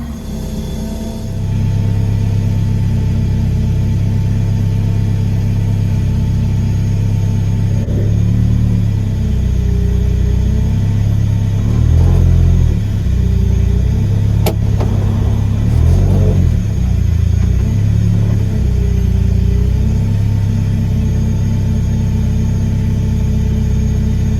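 Mazda RX7 fitted with a turbocharged K24 engine running on ethanol cranks and fires up, then settles into a loud rumbling idle with several throttle blips and revs rising and falling, heard close with no talking.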